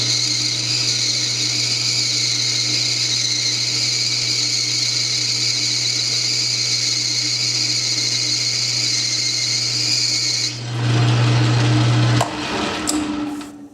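A metal lathe hums loudly and steadily as a tool holder takes a 100-thousandths depth of cut, ending in a brief louder rough grinding stretch near the end.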